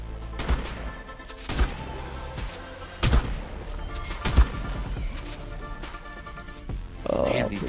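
Gunfire in the survival game Ark: Genesis, a string of sharp, spaced shots ringing out roughly every second or so over a murky background of game ambience, with a voice breaking in near the end.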